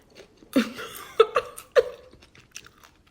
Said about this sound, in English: The crunch cracks me up.